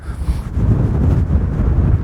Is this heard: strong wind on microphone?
yes